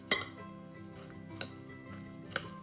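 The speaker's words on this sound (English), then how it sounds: "So just make sure those onions are stirred in nicely." A utensil stirs caramelized onions into bread stuffing in a pan or bowl, giving a sharp opening clink followed by a few lighter scraping knocks over a faint background, with no voices.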